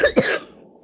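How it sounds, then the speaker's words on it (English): Two quick, close coughs in rapid succession, loud and sharp, followed by a short fading tail of quiet room noise. "Why is everyone literally coughing at the same time?"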